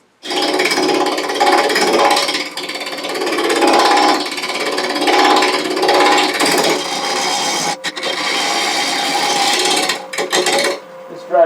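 A wood lathe turning a bowl from dried dogwood, the gouge cutting steadily with a loud, continuous rasping chatter that shifts in intensity, briefly breaking off twice near the end.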